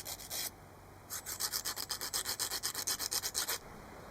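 Sandpaper rubs rhythmically on a metal piston ring from a Yamaha YB-1 two-stroke moped: a short scrape, a pause, then a rapid series of about a dozen quick back-and-forth strokes, close and crisp.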